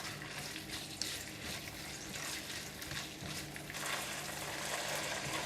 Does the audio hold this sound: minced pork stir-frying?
yes